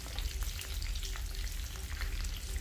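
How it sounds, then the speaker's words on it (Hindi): Stuffed green chillies frying in hot oil in an open pan over medium-low flame, a steady dense sizzle and crackle that carries on evenly throughout, no voices. "मीडियम टू लो फ्लेम में हमें इन्हें फ्राई करना है"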